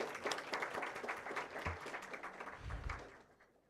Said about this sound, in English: can I have a huge round of applause for him?